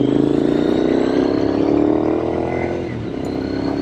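A carbureted 2006 Triumph Scrambler 900 motorcycle engine pulls steadily under load, a continuous close, loud drone that swells slightly then eases.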